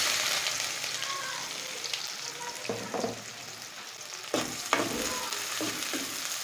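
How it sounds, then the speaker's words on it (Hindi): Chopped onion sizzles steadily in hot ghee in a pan, a close, continuous frying hiss broken by a few stirring scrapes, with no talk over it. "घी गर्म होता है तो प्याज शामिल करेंगे।"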